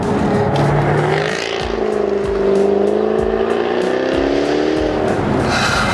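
A Jaguar F-TYPE R with an 8-speed gearbox accelerates hard through the gears, its engine note loud and close, rising steadily and then dropping briefly at each shift.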